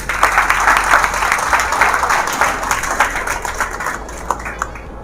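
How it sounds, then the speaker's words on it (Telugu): Audience applauding selected final-year degree students at an event, sustained loud clapping from many people that thins out and fades toward the end. "వాళ్ళకి ఒకసారి క్లాప్స్ కొడుతున్నాం"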